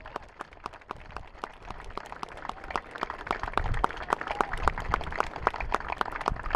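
An audience claps for historical battle reenactors at Fort George, sharp claps building into sustained applause that grows a little louder toward the end.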